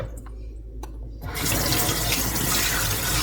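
Water gushes from a sink tap while something is rinsed, a few faint knocks first, then a loud, steady broadband rush that starts abruptly and keeps going close by.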